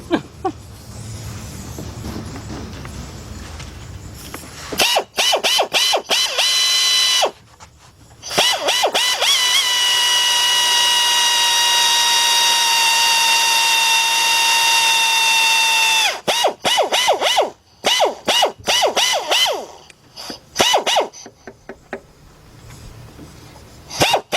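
A power drill whines in long steady runs, broken by short bursts and pauses as the trigger is pulsed on and off, during timing belt and radiator work on a Chrysler-family car.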